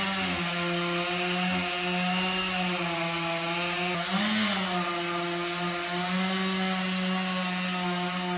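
A chainsaw runs steadily and close while cutting through a big tree during timber felling, its engine droning at a constant pitch with one brief rise in revs midway.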